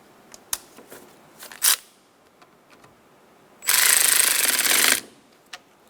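A power tool tightens fog light fasteners on a 2012-2016 Subaru Impreza, with a few short mechanical clicks followed by one loud sustained ratcheting burst of about a second and a half.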